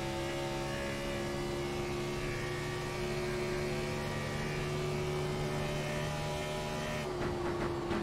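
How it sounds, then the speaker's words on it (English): Race car engine at Las Vegas Speedway held under steady throttle control, a continuous droning hum with sustained tonal harmonics throughout, changing slightly near the end. "You can hear the throttle control he's using"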